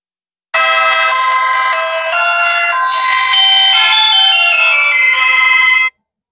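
An itel Power 120 mobile phone plays its startup jingle for about five seconds, a bright, loud polyphonic melody of shifting tones that starts and stops abruptly.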